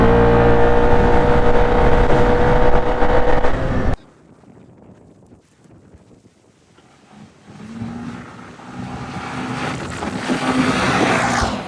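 A four-wheeler ATV in two-wheel drive, front weighted with three 75-pound plates, roars hard from a launch, a loud engine that cuts off abruptly, then wind and a distant engine rising again as it pulls away.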